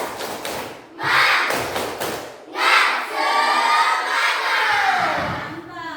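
A group claps and shouts in quick rhythmic bursts, loud and close, with a short pause between sections of the cheer.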